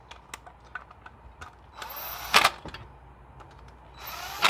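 Nuts run down onto the ignition coil pack studs of a 2008 Chrysler Town and Country 3.8L, heard as a series of short ratcheting clicks and two brief whirring bursts from a power tool, close and moderately loud.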